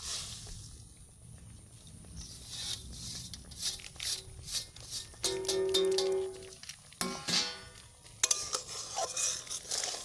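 A spoon scrapes and clinks against a pan as dry fried semolina is stirred over low heat for bakery-style nut biscuits, with irregular close scraping and metallic taps throughout.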